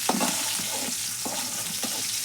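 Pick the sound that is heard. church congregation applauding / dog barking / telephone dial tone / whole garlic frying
whole garlic frying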